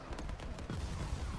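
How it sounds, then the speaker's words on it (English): Explosions and artillery fire from the real-time strategy game Sanctuary: Shattered Sun, a dense, continuous burst of booming blasts and crackling impacts, loud and steady throughout with no talk. "But I like these explosions."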